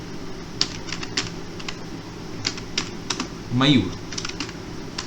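Rapid clicking keystrokes on a computer keyboard, close and fairly steady, with a few louder taps, while someone speaks briefly over the typing.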